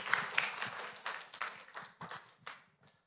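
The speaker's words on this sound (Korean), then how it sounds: "우리 박수로 한번 환영하겠습니다." A church congregation claps in welcome at a combined parish worship service, a short scattered burst of applause that thins out and fades within a few seconds, fairly quiet overall.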